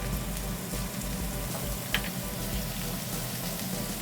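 Butter sizzling and frying in a hot pan, a steady crackling hiss with fine spattering pops throughout, moderately close and without speech.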